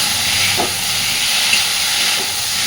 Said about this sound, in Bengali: গাঠি কচু আর আলুটাকে দেওয়ার পরে মোটামুটি তিন চার মিনিট সুন্দরভাবে সব কিছুর সাথে মশলা কষাবে